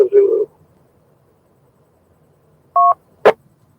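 Phone-style DTMF dialing tones are sent into an amateur radio repeater: a short burst of talk, then silence, then a single clean dual tone and a sharp click-like burst, loud and close.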